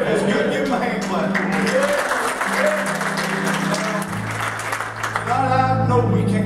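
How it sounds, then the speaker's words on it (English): A church congregation at a Sunday evening service claps together for a member, sustained applause mixed with a speaking voice and soft background music. "Give him a hand clap."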